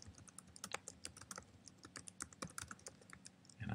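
Rapid, uneven keystrokes on a computer keyboard during a typing test, a steady stream of close clicks and taps with no voices, ending in a brief louder rustle.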